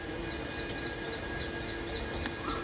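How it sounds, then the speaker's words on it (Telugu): Several birds call repeatedly outdoors on a morning, with parrots and Asian koel cuckoos among them. The calls are faint and come at a steady rhythm over a constant background hum, with one brief sharper sound near the end. "చిలుకలు, కోకిలలు చూడండి."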